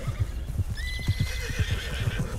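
A horse in Red Dead Redemption 2 gives a loud, rising whinny that shakes into a long wavering neigh, over steady clip-clop hoofbeats and no talk.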